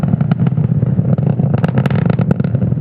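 SpaceX rocket engines thrust a Starlink mission upward during ascent, a loud continuous roaring rumble with crackling bursts and no pause.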